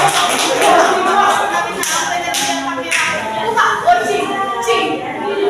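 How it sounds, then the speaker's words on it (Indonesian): A group in a classroom claps during an Al-Qur'an Hadith teaching practice lesson, brisk uneven hand claps that come in bursts with talk mixed in between. "Tepuk tangan kepada kita"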